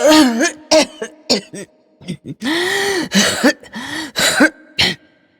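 A person coughs repeatedly in harsh, throaty bursts, with strained groaning breaths between the fits, close and loud.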